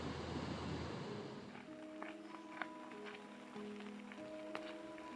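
Ocean surf at Tofino rolls in the rain in a low, steady wash. Faint patter and a few light knocks sit over it, and there is no talk.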